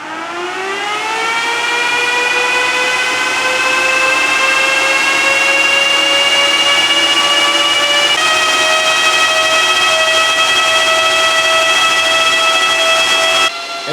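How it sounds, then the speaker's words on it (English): Iceriver Kapsa KS2 crypto miner running very loud from its exhaust side: the fans spin up with a rising whine, then hold a steady, piercing multi-tone drone with constant airy hiss, close and unbroken with no talk. "the miner should kick on at any second now"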